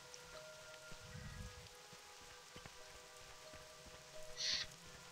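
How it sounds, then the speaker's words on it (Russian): Steady rain falls in the World of Warcraft video game, a soft continuous patter with faint ambient background and a couple of brief bird-like chirps, no talking. "на улице дождик идет"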